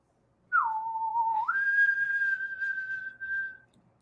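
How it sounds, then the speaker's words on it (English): A sci-fi theremin space whistle glides down, holds a low wavering tone, then leaps up to a long steady high note before fading, clear and alone. "Gotta love that classic, little space whistle at the end of it all."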